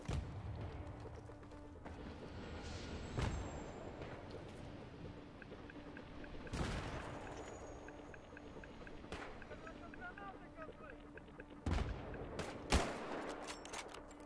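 Sporadic video game gunfire cracks over a rumbling battlefield background, a few sharp loud shots scattered among quieter stretches, with people talking throughout.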